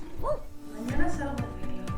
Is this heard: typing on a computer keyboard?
no